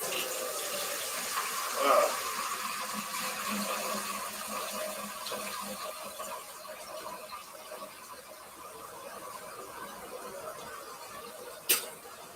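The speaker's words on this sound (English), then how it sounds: "I'm gonna wash this pan." Tap water runs steadily into a kitchen sink while a pan is washed after cooking eggs, a soft continuous rush with a brief squeak near the start and a sharp clink near the end.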